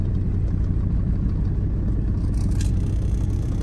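A diesel station wagon engine runs with a loud, steady low rumble and whir, close and continuous for a few seconds with no talk over it.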